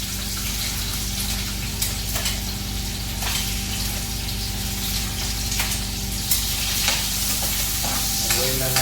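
Ginger fries in a pan and is stirred, a steady loud sizzle with scraping stir strokes running throughout, no voices.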